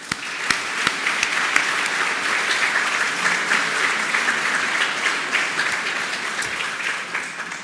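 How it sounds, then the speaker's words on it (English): Sustained audience applause at a European Commission event honoring the jury, a dense, steady wash of many hands clapping with a few sharper nearby claps, loud and continuous with no talk over it. "So please join me in a warm round of applause for the terrific job they have done"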